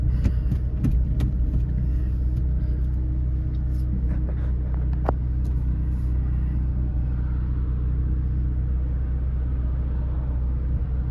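A 1987 Plymouth Colt Vista 4WD with a manual gearbox drives along, its engine a steady low rumble inside the cabin with a few light clicks and rattles early on, no talking.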